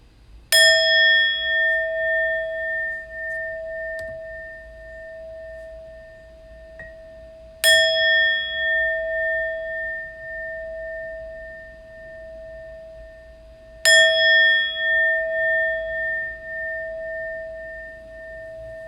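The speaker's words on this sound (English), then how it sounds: "I'm going to ring the bell a few times, and then we'll begin." A meditation bell rings three times at even intervals, each strike clear and close with a long, slowly fading tone, alone in a quiet room.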